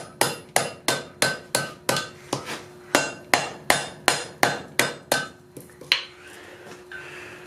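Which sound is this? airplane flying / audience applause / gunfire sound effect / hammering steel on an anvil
hammering steel on an anvil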